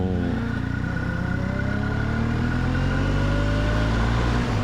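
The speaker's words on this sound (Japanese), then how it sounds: "マフラー変えただけでそんないい音するんだ。" A Kawasaki ZX-25R motorcycle with an Akrapovič aftermarket exhaust idles and revs nearby with a deep, throaty exhaust rumble, sustained and loud with no speech.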